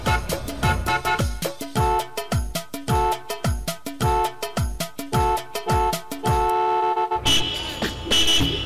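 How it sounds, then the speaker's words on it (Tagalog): Busy four-way intersection of Caltex Road and San Pascual Road in Bauan, Batangas, with heavy traffic: loud, rapid repeated car horn toots in a steady rhythm over engine noise, ending with a brief wash of traffic. "Isa din ang intersection na ito sa sinasabing lugar na pinagmumula ng matinding traffic."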